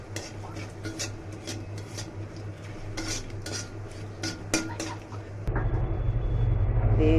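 Dry spices, cumin seeds, two bay leaves and dried chillies, stirred in a pan with repeated metal scraping and clinks of the spoon, ending in a louder steady hiss, close by and with no talk.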